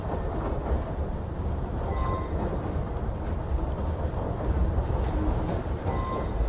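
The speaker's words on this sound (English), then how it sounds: "it's a noisy train" Noisy passenger train rumbling and rattling inside Assassin's Creed Syndicate, a continuous dense clatter of carriage and rail noise with faint squeals, steady and fairly close, no voices over it.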